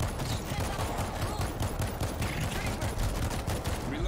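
Rapid machine gun fire in the zombie shooter game World War Z rattles continuously in dense, fast bursts, loud and unbroken, with faint talk mixed underneath.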